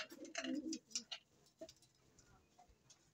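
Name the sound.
pigeon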